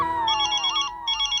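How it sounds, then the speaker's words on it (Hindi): A telephone rings with a call from the office: a close, loud electronic melodic ringtone playing one phrase, a short gap, then starting again, with no voices. "ऑफिस से फोन है।"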